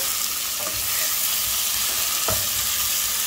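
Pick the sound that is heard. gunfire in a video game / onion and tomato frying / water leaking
onion and tomato frying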